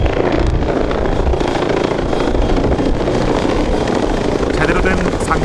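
A military transport helicopter supporting amphibious landing training roars overhead as a dense, steady rotor and engine wash, loud and continuous, with a voice talking over it.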